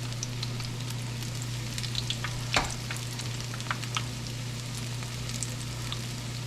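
Onion fritters frying in hot oil, with a steady, fairly quiet sizzle and crackle, a few sharper pops, and a low constant hum running underneath, with no talking.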